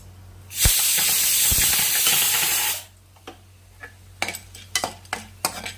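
Chana dal and cut dry red chillies hit a hot pan with a loud, steady sizzle lasting about two seconds. Sharp spoon-and-pan clinks from stirring over a low flame follow.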